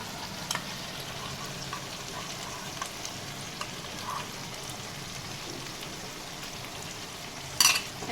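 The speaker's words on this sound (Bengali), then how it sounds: "এবার এটাকে গুলে নিয়ে আমি চিকেনটার উপরে দিয়ে দেবো।" Cornflour slurry poured over dry chilli chicken frying in a pan, heard as a steady, close hiss and sizzle of hot oil, with a brief louder spatter near the end.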